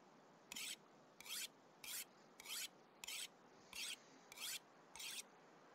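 A tool is sharpened in a survival video game with eight evenly spaced rasping strokes, each a bright, gritty scrape of about half a second with short pauses between them, heard alone over a quiet background.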